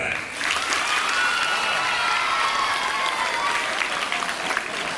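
Students at a school debate event applaud in a sustained, dense round of clapping that stays steady for several seconds, with faint crowd murmur underneath.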